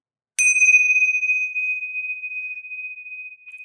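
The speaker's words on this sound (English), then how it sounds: "That's the bell for the last call." A single bright bell ding rings out for last call, a clean sharp strike followed by a long pure sustained tone that slowly fades, alone with no talk.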